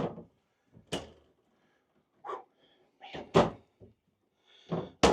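Pull-out drawers in a 2024 Sunset Trail 269FK front-kitchen travel trailer slide open and shut, giving several close, sharp clunks and knocks separated by short stretches of quiet.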